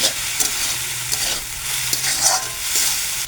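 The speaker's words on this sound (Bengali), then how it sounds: "এখন নুডলসকে সেটাতে মাখানো হচ্ছে।" Noodles coated in Maggi masala sizzle steadily in a hot pan while a spatula stirs and scrapes through them in irregular strokes, close and alone.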